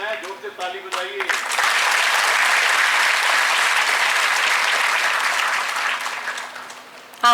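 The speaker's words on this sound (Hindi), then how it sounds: "हमारी इंस्पिरेशन है, जोर से ताली बजाइए।" Loud, sustained audience applause fills a felicitation ceremony for a TB-Free India campaign at Raj Bhavan, Dehradun, swelling after a brief spoken introduction and holding steady before tapering at the end.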